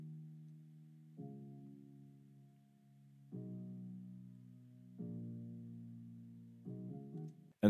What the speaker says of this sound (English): I wrote this chord progression to match the bass line, and it sounds like this using the Labs piano,